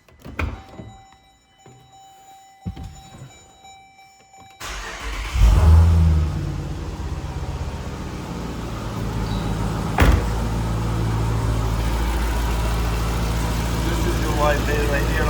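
A car engine cranks and catches after a few quiet seconds of faint clicks, then settles into a steady idle with a brief sharp thunk partway through.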